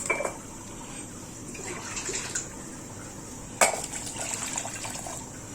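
A cup of water is poured onto licorice root and tulsi leaves for a kadha, making a short splash and trickle with a sharp clink midway, all at close range.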